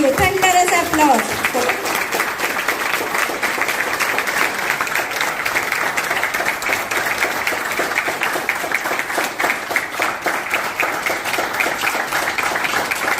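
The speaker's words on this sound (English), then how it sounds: "So, thunderous applause I want from all of you. Thunderous applause." A large audience at a women leaders' gathering bursts into steady, thunderous clapping that continues evenly throughout, with a brief voice at the very start.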